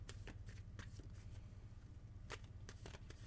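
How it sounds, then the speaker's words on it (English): Tarot cards are shuffled in soft, quick riffling bursts, several short papery flicks scattered over a low steady background hum, close and quiet with no talking. "I'm shuffling for you right now, Scooby"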